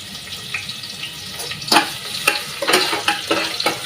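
Garlic cloves dropped into hot oil in a pan with bay leaf: a close, crackling sizzle that flares up in sharp bursts as the pieces are stirred, with light spoon scrapes and no talk.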